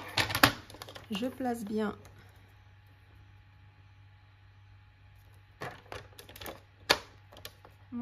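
A paper trimmer scores fold lines across a paper triangle for a Stamperia 'You and Me' album craft; a few sharp mechanical clicks and slides stand out, with a voice talking briefly near the start.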